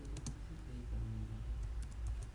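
Keys clatter on a computer keyboard as a command is typed into a command prompt, a quick run of soft clicks, faint and close, heard alone.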